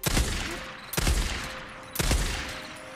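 Gunfire in the video game Days Gone: three loud, heavy shots about a second apart, each with a long reverberant tail that fills the gap before the next.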